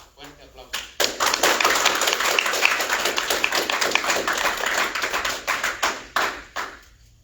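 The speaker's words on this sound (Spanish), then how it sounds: "lo vamos a recibir con un fuerte aplauso" A church congregation gives the pastor a strong round of applause, a loud, fairly close burst of clapping that swells quickly and holds for several seconds before tapering into a few scattered claps.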